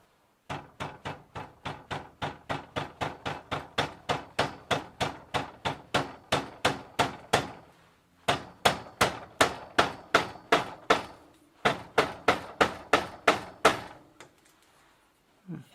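Rapid, evenly spaced hammer blows drive an aluminium seat post into a bicycle frame, dozens of loud sharp strikes in three long runs with brief pauses, no talking.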